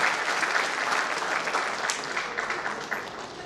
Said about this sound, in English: Can we have a huge round of applause for this important collaboration?